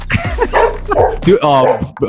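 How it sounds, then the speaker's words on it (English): A dog barks and yips in a few quick bursts, close and loud, mixed with talking. "my dog is barking at something that never barks"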